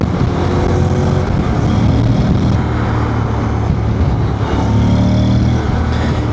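A Honda Transalp 750 motorcycle with a remapped ECU riding on an uneven public road, its engine a constant loud, close hum with wind rush and shifting pitch throughout.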